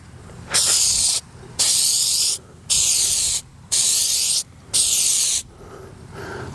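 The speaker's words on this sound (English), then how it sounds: "we're going to go ahead and spray it with a light coat first of this headlight coating" A spray can applies a light coat of headlight restoration coating, giving five evenly spaced bursts of loud, close hissing, each lasting under a second, with short quiet gaps between them.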